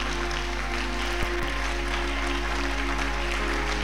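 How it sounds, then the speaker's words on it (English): Church congregation clapping during a sermon, a dense steady wash of applause running throughout under a sustained low organ or keyboard drone, with a couple of brief louder thumps. "If you clap, clap for Jesus."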